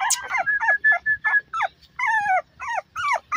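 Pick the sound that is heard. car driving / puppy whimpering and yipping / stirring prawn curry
puppy whimpering and yipping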